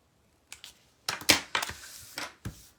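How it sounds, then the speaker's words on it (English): Scissors snipping through paper around a stamped image, with a few separate crisp cuts and rustles up close, grouped in short bursts with quiet gaps between them. "I like to leave a little border around it so it makes it easier to cut."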